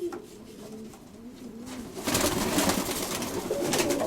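Pigeons coo softly in repeated rolling calls nearby, followed by a burst of rustling and fluttering as the birds shuffle about.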